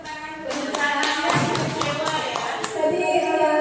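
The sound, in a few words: audience clapping hands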